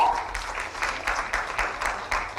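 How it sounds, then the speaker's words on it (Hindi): A crowd at a sports event claps steadily for a couple of seconds, a dense, even patter of many hands at moderate distance. "तालियां जोरदार हो"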